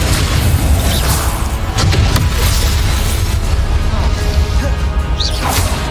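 Spell blasts in Hogwarts Legacy land as dense, loud booms and crashes with whooshing bursts that overlap continuously, with no clear gaps between impacts.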